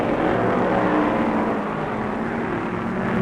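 Dense, steady engine roar from a 1967 NASCAR stock car at the Charlotte World 600, loud and continuous with a slight dip midway as the car comes into the pit for tires.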